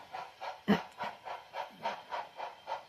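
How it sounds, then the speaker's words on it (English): A small model freight train chugs along steadily, with regular rhythmic puffs about three per second and one louder clank partway through, fairly quiet. "Here are a train returning from the switchback"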